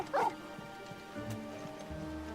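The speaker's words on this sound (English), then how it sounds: "Bark, bark." Torgal, a dog in the video game Final Fantasy XVI, gives one short faint bark near the start, followed by quiet low ambient sound.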